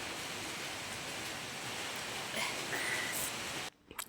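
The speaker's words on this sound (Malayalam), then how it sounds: "അപ്പുറത്ത് നല്ല മഴ ഉണ്ടല്ലേ, നല്ല മഴയാണ്" Heavy rain pouring outside, a dense steady hiss that fills the background evenly before cutting off abruptly near the end.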